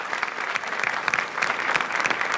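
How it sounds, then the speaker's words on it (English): Warm audience applause greets a musician at an environmental event, a lively, continuous patter of many hands clapping at close range. "Please welcome with a warm applause"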